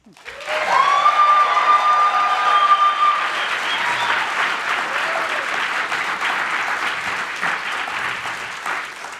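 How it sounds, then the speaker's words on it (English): Sustained applause from a live audience at a podcast event, steady and loud throughout, with scattered cheers and whoops rising over the clapping near the start. "can we give them another round of applause?"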